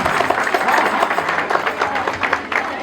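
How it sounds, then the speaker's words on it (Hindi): A gathering at a Jain community prayer event applauds the host family: dense, continuous clapping from many people mixed with crowd murmur and a voice. "मैं चाहता हूँ तो सभी लोग एक बार जोरदार ताली उस परिवार के लिए आयोजन किया है।"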